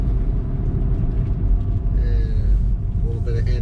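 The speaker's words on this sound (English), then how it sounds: "We have engine braking going here." A 2021 Toyota Prius AWD-e engine brakes while descending a mountain road, giving a dense, steady low rumble with faint whine rising late, heard from inside the cabin.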